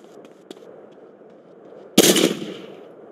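A Colt pistol fires in a video game, a single loud, sharp report with a brief ringing tail after near-silence and faint clicks.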